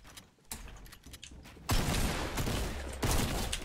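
Gunfire in Fortnite, with scattered shots and then a burst of dense, loud rapid fire that continues in waves with no talking.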